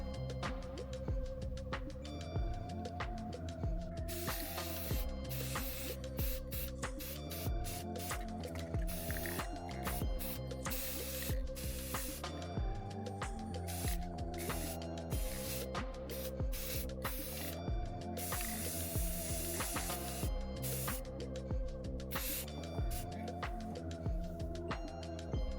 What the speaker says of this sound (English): I have this gold spray paint. I'm going to spray it gold.